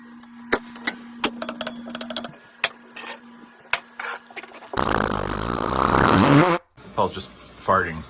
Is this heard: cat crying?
no